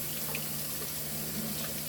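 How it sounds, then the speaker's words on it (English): Water pours steadily down a kitchen sink drain near a hot stainless steel pan, a continuous close hiss of running liquid with a faint hum underneath. "just pour this down the drain"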